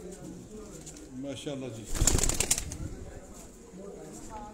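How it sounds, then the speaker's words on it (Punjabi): Pigeons on a rooftop in Sialkot, a plump one among them, with soft cooing and a brief flutter of wings, faint under someone speaking close by. "ਸਾਡਾ ਚੌਥਾ ਕਬੂਤਰ ਮੋਟਾ ਮੋਟਾ ਕਬੂਤਰ"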